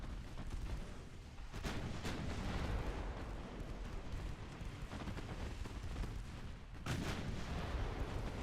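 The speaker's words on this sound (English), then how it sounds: "Torpedo detonation." A torpedo detonates in a naval warfare game, a deep, rumbling blast that swells into a sustained roar with sharper bursts near the start and again toward the end, loud and continuous with no talking.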